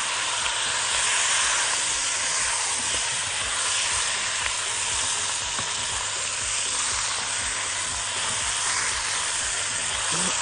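Chicken pieces tossed with cumin, cardamom and black pepper sizzle and fry steadily over high heat in a pan, a continuous loud crackling hiss with faint stirring scrapes throughout and no talking.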